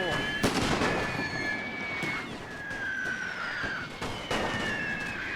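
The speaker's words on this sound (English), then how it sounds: "So far, no artillery strike has hit our own men." Artillery strikes and gunfire in a World War I game on the Russian front against an Austrian advance: repeated sharp booms and cracks over a steady battle din, with whistling tones gliding overhead, some blasts close and loud.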